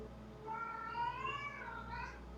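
A cat screams and cries indoors in a drawn-out, wavering meow that rises and falls in pitch over a couple of seconds, fairly clear against a low background hum.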